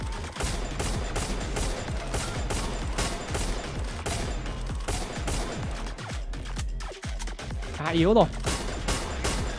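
Rapid bursts of gunfire from the battle royale game Free Fire crackle in dense volleys across the whole stretch, loud and repeated, with a player briefly talking over them.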